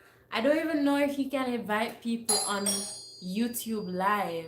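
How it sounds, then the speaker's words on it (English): A doorbell chimes indoors with bright, sustained bell tones lasting about a second, partly under a person talking steadily throughout. "That's my doorbell,"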